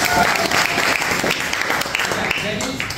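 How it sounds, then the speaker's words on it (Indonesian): Classroom students clapping together on the teacher's cue, a dense and loud burst of applause that holds steady throughout, with some voices mixed in. "Tepuk tangan dulu."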